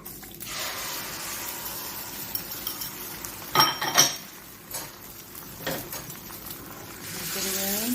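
An egg is mixed in a bowl with cutlery for an omelet: clinking and scraping of utensils against the dish, with a few sharper clinks mid-way, fairly close and moderately loud, amid a faint background hiss.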